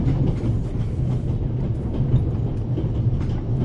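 A train covering a long-distance route rolls steadily along the rails, with a continuous loud rumble and faint rhythmic clatter of wheels throughout, close by, with no talking.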